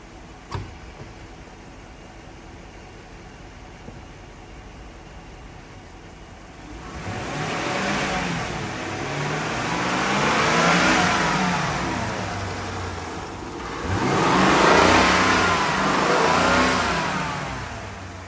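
A 2019 Jeep Grand Cherokee Trailhawk's 5.7-liter V8 idles quietly, then revs up in two long swells, rising and falling with a deep throaty growl close by.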